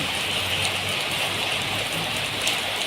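Steady rain falls and patters on surfaces nearby, a constant hiss with occasional louder drips, no voices.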